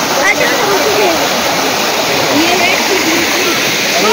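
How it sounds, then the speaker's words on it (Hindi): A small waterfall at Salparni spills over rocks, a loud continuous rush of broadband water noise with splashing and gurgling, steady throughout and heard close, with faint chirps above it. "पत्थरों के बीच से होकर जब पानी बहती है"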